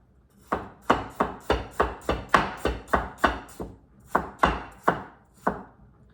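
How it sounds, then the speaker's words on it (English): A knife chops celery on a cutting board in a home kitchen, about fifteen sharp, even knocks in a steady rhythm with a short pause before the last few, close and clear with no talking. "and then chop it"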